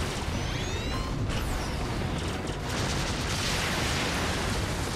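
Dense, roaring missile blasts fill the clip in Star Fox Zero, with whooshing streaks and crackling bursts layered over a constant rumble, like rapid explosions in a game battle.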